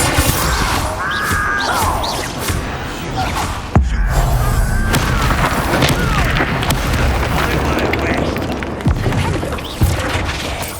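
Fiery Confringo spell explosions in the Hogwarts Legacy video game, loud booming blasts and crashes stacked densely over a dense combat soundscape, with a sharp impact near four seconds and more thuds later on.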